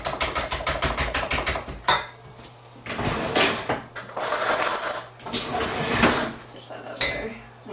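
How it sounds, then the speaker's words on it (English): Sugar being mixed in a bowl with a fork, a quick run of rhythmic clinking taps against the bowl followed by irregular scraping and clattering strokes, close up. "Use a fork to get started."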